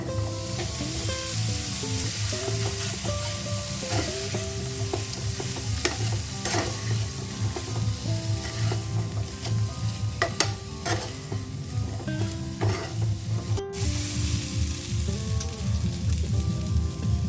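Chickpeas frying in a pan with salt, black salt, roasted cumin, chilli and black pepper powders for chana chaat, a steady close sizzle with scraping stirs and occasional sharp clacks of a utensil.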